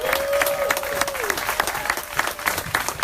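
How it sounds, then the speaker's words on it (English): An audience at a political rally applauds for the president, a dense, continuous wash of clapping with a voice or tone briefly underneath at the start. "let me ask for a round of applause for the president"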